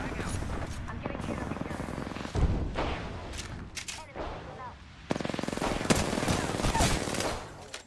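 Video game gunfire crackles in rapid automatic bursts and single shots, loud and close, with players talking over the shooting throughout.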